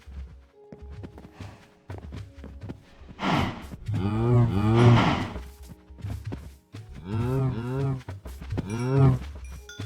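Minecraft cows mooing in the video game, several drawn-out lowing calls in a row, loud and close, with clicks and thumps of in-game movement between them.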